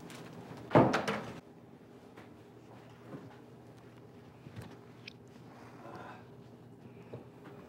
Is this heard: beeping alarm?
no